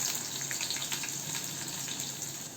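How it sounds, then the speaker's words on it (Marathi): Sliced garlic sautés in oil with mustard seeds and cumin, a steady close hiss with light crackles. "आपण लसूण परतून घेऊ तेलात."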